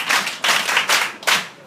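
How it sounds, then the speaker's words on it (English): A classroom of pupils claps for a classmate in three or four quick, loud bursts of hand claps, close by, with short gaps between the bursts. "Clap for her."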